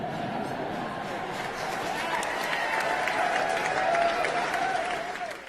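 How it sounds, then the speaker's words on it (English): A large audience cheers and applauds Prince Harry at an evening event, a dense, steady roar of clapping and shouting that swells toward the middle and holds throughout. "he had all those cheers and people just applauded him"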